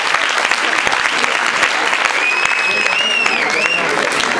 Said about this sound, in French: Donc vous pouvez vous applaudir les gars.